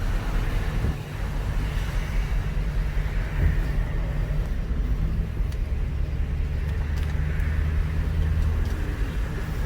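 A worn van engine with over 350,000 miles runs in gear, a low steady rumble and drone that holds at a moderate level throughout, with no one talking.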